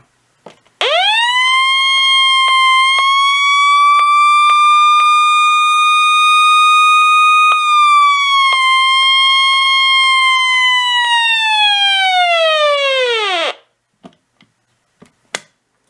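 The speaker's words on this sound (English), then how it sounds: "it's time to test the siren. Of course, using the test button on the top of the radio" A loud, steady electronic siren test tone from a Radio Shack 12-140 radio sounds continuously for about thirteen seconds, then cuts off, followed by a few faint clicks.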